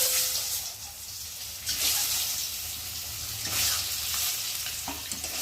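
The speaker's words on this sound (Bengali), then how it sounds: "আর এখন আমি অল্প করে নুন দেব, আর দেবো হলুদ গুঁড়ো দিয়ে, আর ডিমগুলোকে ভালো করে ভেজে নেব।" Eggs frying in hot oil seasoned with salt and turmeric powder, a steady close sizzle with occasional scraping stirs of a spatula in the pan, no voices.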